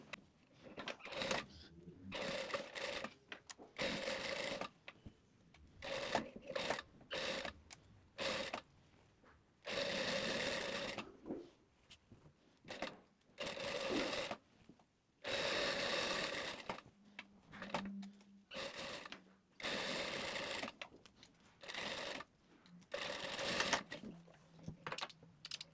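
A sewing machine stitches a waistband onto a pair of shorts with a 1 cm seam allowance, running in repeated rapid whirring bursts separated by short pauses, close and steady.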